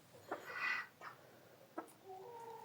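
A few soft clucks from hens in a backyard flock, faint and spaced apart, with a brief higher call near the end.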